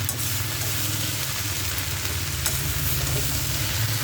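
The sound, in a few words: stirring okra sabzi frying in an iron kadai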